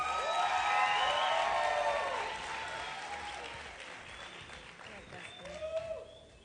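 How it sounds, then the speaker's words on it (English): A pageant audience at a grand final gives a woman a loud round of applause with cheers and whoops. The clapping swells at first, then thins out while a voice speaks over the fading crowd. "please give this woman the biggest round of applause"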